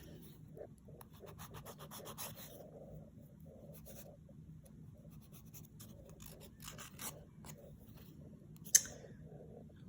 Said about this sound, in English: start filing your nails into the shape that you desire